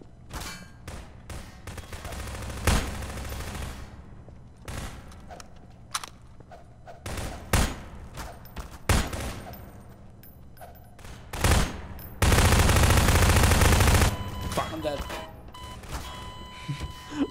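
Repeated gunfire in Garry's Mod as a player unloads on an enemy: sharp shots in irregular bursts with a longer sustained volley near the end, loud and close, with faint voices underneath.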